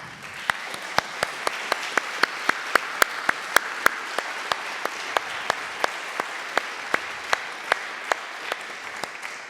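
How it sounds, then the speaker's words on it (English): Applause from a local election hustings audience in Richmond, a continuous bed of clapping punctuated by sharp, regular close hand claps standing out near the microphone. "I think everybody who does deserves a round of applause."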